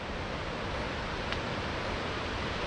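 Granite Creek in the Washington mountains rushing below a hiking trail, a dense, steady broadband roar of flowing water that holds evenly throughout with no talk.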